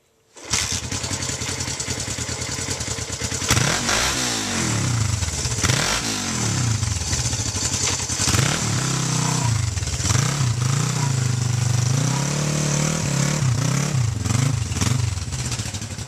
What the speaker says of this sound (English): So, let's crank this bad boy out